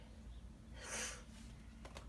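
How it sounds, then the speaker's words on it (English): A person gives a single quiet sniff near the middle, a short airy intake through the nose that stands alone against a faint background. "You guys had to excuse me, I sniff a little bit."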